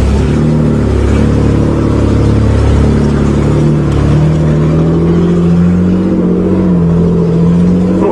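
A 1986 Nissan 4x4 truck crawls off-road through the bush, its engine a loud, steady low drone with slight pitch shifts, heard from inside the cab with no voices.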